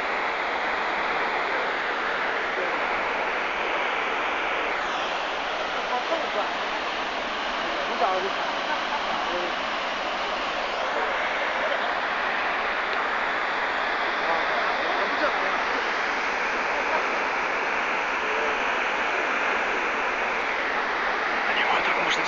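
A waterfall sits below a hydroelectric station, a steady, loud broadband roar of falling water that holds evenly and continuously throughout.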